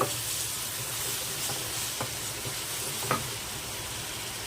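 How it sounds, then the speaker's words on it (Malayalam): Tomato and curry leaves fry in hot oil for a drumstick-leaf curry, giving a steady close sizzle with a few soft stirring scrapes and no voices. "ഇനിയിപ്പോൾ ടൊമാറ്റോ ഇട്ട് ഇത് എണ്ണയിൽ കിടന്ന് നന്നായിട്ടൊന്ന് താളിച്ചതിന് ശേഷം"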